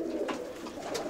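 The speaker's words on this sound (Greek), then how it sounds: "Τα περιστέρια αυτά είναι." Pigeons coo softly in a loft, a low murmuring call repeating under faint background noise.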